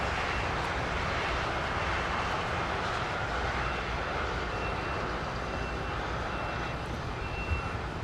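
Cathay Pacific airliner 3280 lines up on runway 25 left at Los Angeles International Airport. A steady, broad roar of jet engines rumbles from a distance and holds level throughout, with no talking.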